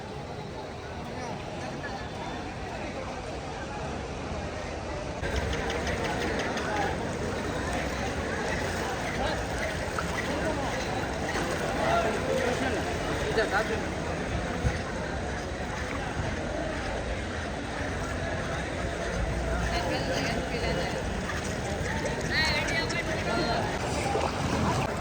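A vehicle pushes through deep floodwater on a flooded Surat market street after heavy rain, a continuous rushing, sloshing wash of water that swells louder partway through, with someone talking over it.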